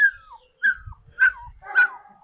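A puppy whimpers in four short, high, falling whines separated by brief pauses, close to the microphone, with soft low rustling between them.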